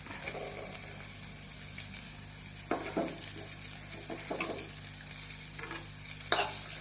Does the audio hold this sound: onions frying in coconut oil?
yes